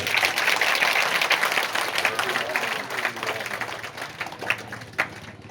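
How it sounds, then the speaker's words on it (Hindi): Applause from the gathering at a Bhagwat Katha religious discourse in Balapura, clapping for donors: a moderate wash of hand claps that thins out toward the end, with a few louder single claps. "एक बार करबद्ध तालियां हो जाए आप सबके लिए।"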